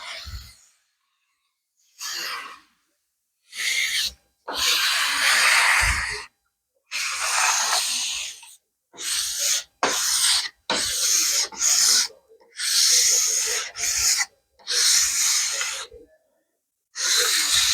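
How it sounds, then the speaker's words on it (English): Scraper dragging coating across a wooden deck in repeated rasping strokes, each a second or two long with short pauses between, close and fairly loud. "And then it's basically just scraping and get it all over the place."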